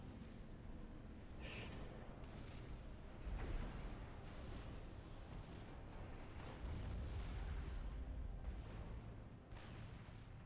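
Artillery shells boom repeatedly in a Forged Alliance Forever 3v3 battle, dull distant blasts rolling over a constant dense rumble of combat with no clear gaps.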